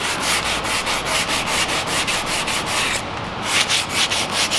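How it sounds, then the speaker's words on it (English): Steady back-and-forth scratching of sandpaper rubbed by hand over hard plastic, a quick regular rhythm of strokes, close and fairly loud, with no talking. "you let the sandpaper do the work"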